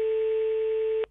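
A single steady telephone ringing tone sounds on the line for about a second, loud and clean, then cuts off with a brief click.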